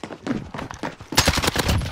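Rapid bursts of gunfire from the Modern Warfare video game, in a free-for-all match, crackle through the clip and grow louder and denser in the second half with no talk over them.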